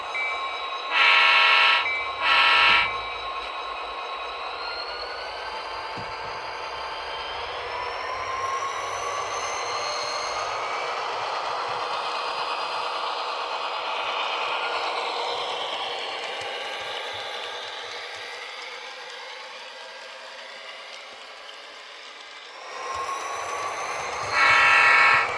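An Athearn model train rolls steadily along a layout, its horn sounding in two short loud blasts at the start and again at the end over a continuous rumble of wheels.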